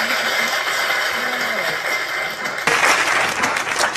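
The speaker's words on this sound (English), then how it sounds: "Oh, another cheer for Donald." Studio audience applause and cheering at a TV taping: a steady wash of clapping that swells louder partway through, with no talk over it.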